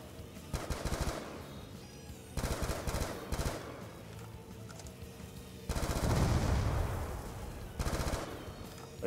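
A submachine gun fires in Call of Duty Zombies: several rapid bursts of dense automatic shots, separated by short pauses, with the longest and heaviest burst near the end.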